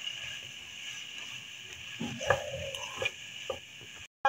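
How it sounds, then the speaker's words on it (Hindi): Spring roll filling gets mixed with a spoon in a bowl, producing soft scraping and occasional light clinks, quiet and close against a steady background hum. "और इनको अच्छी तरह से मिक्स करेंगे।"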